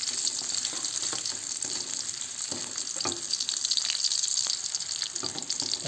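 Shallots and garlic sautéing in a pan give a steady close sizzle and frying hiss throughout, with occasional light stirring scrapes and no talking.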